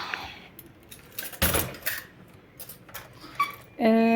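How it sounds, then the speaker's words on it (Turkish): A new 12-piece set of metal spoons is handled, giving sparse, close clinks and brief jangles of cutlery knocking together, followed at the end by a sustained ringing tone. "Kaşık takımı aldım kendime. 12 kişilik."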